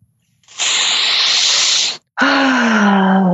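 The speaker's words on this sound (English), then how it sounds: "Big deep breath." A big deep breath during a tapping exercise, a long airy inhale followed by a voiced, sighing exhale, close to the microphone and loud.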